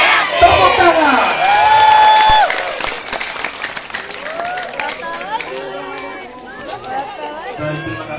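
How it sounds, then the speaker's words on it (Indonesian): A crowd at a creative-economy event at the Nurul Huda Islamic boarding school claps and cheers loudly. Shouts and excited voices rise over the dense applause, which stays strong throughout. "Tepuk tangan."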